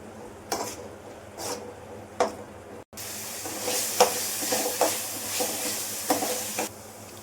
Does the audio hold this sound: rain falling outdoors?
no